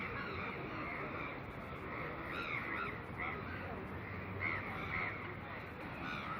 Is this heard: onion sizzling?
no